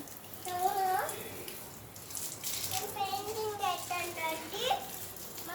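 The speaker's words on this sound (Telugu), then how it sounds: "మా బాబు చెట్లకి ఇలా నీళ్ళు పడుతున్నాడు" A soft, steady splash of water running from a hose onto garden plants, with a voice chattering over it at moments.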